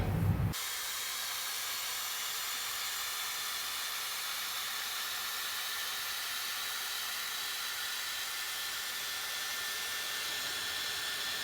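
A hair dryer blows steadily while drying hair, a continuous loud airy hiss and whoosh that starts after a brief opening sound and runs unbroken to the end, close and without talk.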